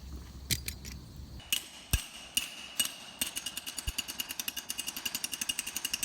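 Someone hammers on metal in a farm shop. Scattered clanging strikes give way to a fast, even run of lighter taps, all fairly faint, with no talking.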